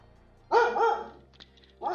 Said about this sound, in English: She's barking at everything that moves.